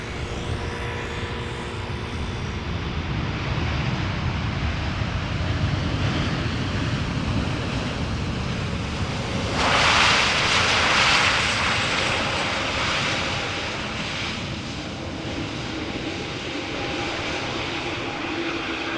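Boeing 787 Dreamliner jet engines roar steadily at Amsterdam Schiphol airport, a broad continuous rumble that swells louder around the middle as the aircraft passes, then settles back into a sustained drone with no talk.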